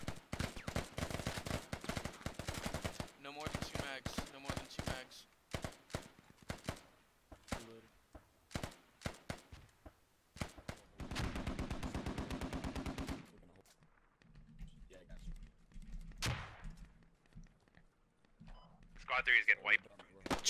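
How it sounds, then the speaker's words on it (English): Suppressive gunfire in the military shooter game Squad: repeated rapid bursts and sustained automatic volleys, loud and close, with pauses between strings of shots and radio-style voices talking throughout. "Trying to lay down suppressive fire."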